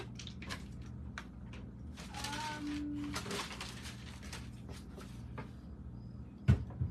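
A drawer is pulled open, giving soft wooden scrapes and light clatters, then a sharper knock near the end, fairly close and quiet.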